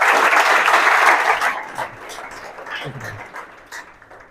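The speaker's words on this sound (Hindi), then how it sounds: "ताली एक बार इनके लिए हो।" Students at a coaching centre's test-result celebration clap for a prize winner, a burst of applause that fades out over a few seconds while a voice begins to speak beneath the tail.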